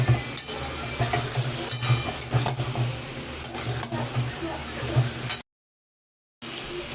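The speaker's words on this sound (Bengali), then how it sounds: "সামান্য একটু জল দিয়ে আমি এই মশলাগুলোকে ভালোভাবে কষিয়ে নেব" Ground spices being sautéed with a splash of water in a pan for a Bengali tangra catfish curry, a soft steady sizzle broken by scraping stirs and light clinks, with a brief dropout near the end.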